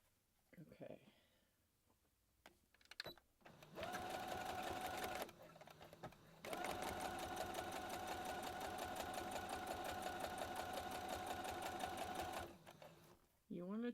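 A sewing machine stitches the seams of a reversible bucket hat. A short whirring run comes first, then a long steady mechanical hum lasting several seconds. Some talking and handling noises can be heard before the machine starts.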